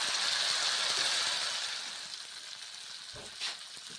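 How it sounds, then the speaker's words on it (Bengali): Kohlrabi frying with salt in a wok gives a close hissing sizzle that fades after a couple of seconds, with a brief stirring scrape near the end. "নুন দিচ্ছি, এক মিনিট নেড়ে ছেড়ে ভেজে নিচ্ছি।"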